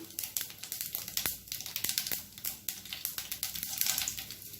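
Dried red chillies fry in hot oil with mustard seeds and urad dal, giving a close, crackling sizzle dotted with rapid sharp pops and spatters throughout.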